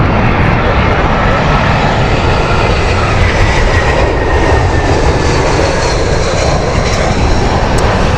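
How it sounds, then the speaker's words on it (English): A British Airways Airbus A319 lands at Heathrow in heavy wind, its loud jet engine roar steady and broad for the whole stretch, mixed with wind buffeting and no talk. "this is the Milan flight, just coming in right now. Airbus A319 from Speedbird."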